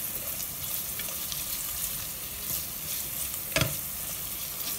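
Sofrito with added garlic sizzles steadily in a pan as it is stirred, a constant bright frying hiss with one brief sharp scrape of the utensil.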